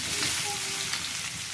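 Onions sizzle and fry in a pan at home while egg chop is being cooked, a steady close hiss that carries through the whole moment without a break.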